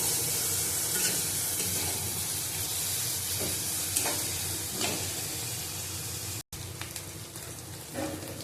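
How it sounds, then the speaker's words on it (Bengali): Onions fry in oil in a pan along with chilli, giving a steady crackling sizzle with a few louder stirring scrapes, close and continuous with no talking. "পেঁয়াজটা ভেজে নিতে হবে।"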